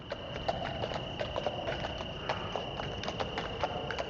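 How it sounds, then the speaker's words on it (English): Horse hooves and carriage wheels on cobblestones in a video game: an even patter of clip-clopping steps with sharper clacks, continuous and fairly close over a faint steady tone. "Here's the horse and carriage, the cobblestones."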